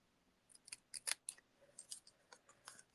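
Scissors snipping card paper while trimming a simple handmade card, a quick series of crisp close snips and cuts in an otherwise quiet room.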